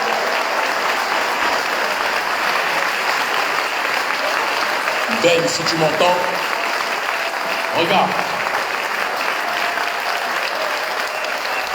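A crowd at a rally in Guadeloupe breaks into sustained applause, a dense, loud wash of clapping that runs throughout, while a voice speaks over it partway through.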